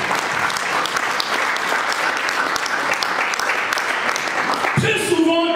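A church congregation applauding and cheering during a service: dense, steady clapping mixed with raised voices that carries on throughout before a voice and music break in at the end.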